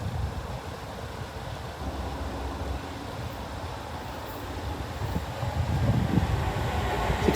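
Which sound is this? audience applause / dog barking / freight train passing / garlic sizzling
freight train passing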